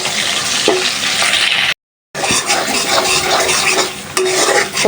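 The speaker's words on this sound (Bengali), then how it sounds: "মশলাটা ভালোভাবে কষায় নিয়েছি ইলিশ মাছের তরকারির জন্য" Spice paste for a hilsa curry fries and is stirred in a pan, a close, loud sizzle with scraping and clinks of a utensil against the pot, broken by a brief gap of silence.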